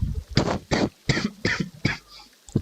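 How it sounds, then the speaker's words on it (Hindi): Repeated coughing from a character in a Sherlock Holmes: Crimes & Punishments case scene, six harsh bursts in quick succession, close and fairly loud with short gaps between them and no speech. "खांसी क्यों आ रही है"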